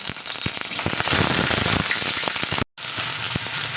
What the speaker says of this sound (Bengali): তেলটা গরম হয়ে গেলে আমি দিয়েছি ফুলকপির টুকরোগুলো